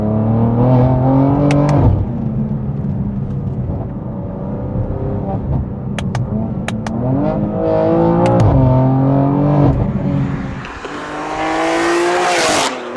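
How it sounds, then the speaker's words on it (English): BMW M2 G87 with a Miltech single mid-pipe exhaust and valves open, 700 horsepower, revving hard with loud repeated climbs and drops in pitch, close and continuous. "This single mid-pipe Miltech system sounds insane. Valves fully open."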